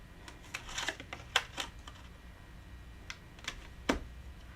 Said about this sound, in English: now I'm going to die cut the other half